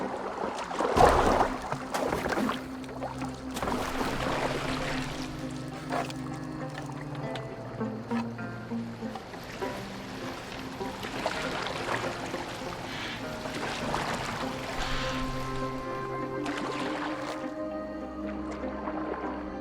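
Oars splash and water laps as a boat is rowed in Assassin's Creed Valhalla, with steady wet dipping and dripping under sustained game music throughout.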